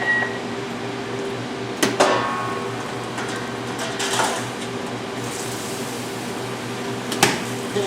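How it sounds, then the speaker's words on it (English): A TurboChef oven hums steadily while cooking pre-cooked refrigerated ribs, with a few sharp clicks and clunks breaking the even whir. "I have a setting for ribs right here. This is going to cook for 2 minutes and 30 seconds."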